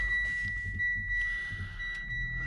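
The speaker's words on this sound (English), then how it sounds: "apart from that bleeping that you can hear. It's just telling me I haven't got my seat belt on." A Mitsubishi Outlander PHEV's seat belt warning chime sounds inside the cabin as a steady high electronic tone, fairly faint over a low engine hum.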